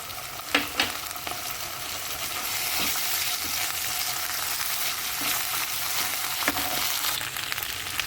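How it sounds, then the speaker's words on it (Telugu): Ginger garlic paste frying with onions and green chillies in a pan, a steady close sizzle with a few sharper crackles and stirring scrapes throughout, no voices. "అల్లం వెల్లుల్లి పేస్ట్ కూడా వేగిపోయిందండి"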